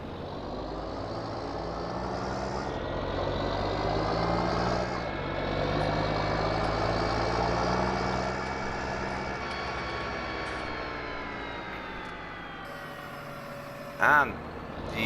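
Engine of a John Deere tractor in Farming Simulator 19, heard from inside the cab, a steady droning hum that rises and shifts pitch as it revs, with a short sharp blip near the end.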